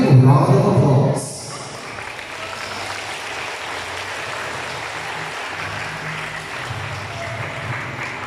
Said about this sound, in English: Let's give her an echoing round of applause